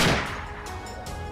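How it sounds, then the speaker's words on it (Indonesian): A single sharp headshot gunshot from a mobile shooter video game hits at once, followed by a decaying boom and a couple of fainter follow-up impacts. "tembakan headshot tepat mengenai Squirrel"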